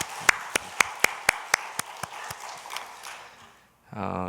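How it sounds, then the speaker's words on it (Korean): A church congregation gives a short burst of sharp, rhythmic clapping in unison, about a dozen evenly spaced claps that fade out, followed by a brief tone at the end. "우리 감사와 또 격려의 박수 한번 하도록 하겠습니다"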